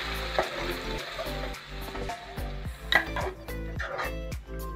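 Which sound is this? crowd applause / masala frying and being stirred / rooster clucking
masala frying and being stirred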